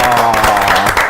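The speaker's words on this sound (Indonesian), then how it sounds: "kita kasih tepuk tangan lagi dong" A crowd claps in a brief, loud burst, with voices mixed in.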